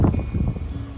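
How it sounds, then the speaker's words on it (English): Wind blowing across an exposed coastal headland on a cliff path, a steady broadband rush with gusty low rumble buffeting the microphone throughout. "Wind is definitely getting up."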